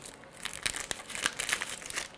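A plastic bag crinkles softly and close by as desiccant packs are unpacked for a 3D printer's filament system. The crackles come in short, irregular bursts in a quiet room, with no talking.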